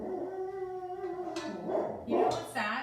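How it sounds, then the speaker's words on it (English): A big dog gives a drawn-out, mournful howl indoors, its sustained tone wavering and then breaking into higher yelping cries near the end. "That's the big dog that you hear."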